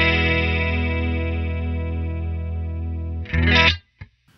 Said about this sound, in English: So it's a pretty classic chorus sound.